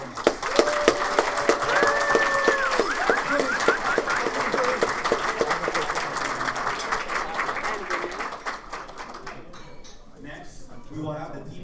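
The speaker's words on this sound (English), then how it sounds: "I would like you all to give your coaches a huge round of applause" An opening ceremony audience gives a long, steady round of applause for the coaches, dense clapping filling the room and tapering off near the end.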